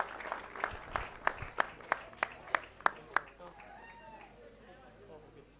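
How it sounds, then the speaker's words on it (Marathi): Applause at a cricket tournament prize distribution, the Shri Rasai Chashak 2026 in Shembavane, honours the best batter: about ten sharp, evenly spaced claps ring out close by, then fade into faint murmuring voices. "कृष्णा गुरव, टाळ्या होऊन जाऊ द्या."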